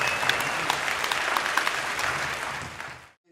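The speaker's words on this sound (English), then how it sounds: "But just round of applause for Jake," Audience applause after a Q&A session, a steady wash of many hands clapping that fills the room and then stops abruptly near the end.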